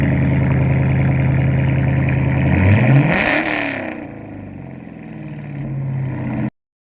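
Gen 4 LS V8 run on a Gen 3 ECM and harness, built from a short block, revs up loudly in the shop, sweeps through a rising rev, then falls back to a steadier idle before cutting off abruptly near the end.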